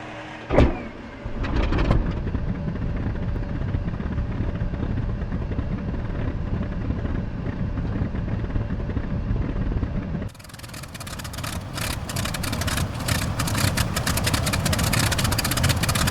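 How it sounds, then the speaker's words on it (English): Fw190 A8 piston engine in the DCS flight simulator coughing into life with a few sharp catches, then running as a steady drone that jumps to a louder, rougher roar near the end. "until the engine start catches and you hear the engine running smoothly"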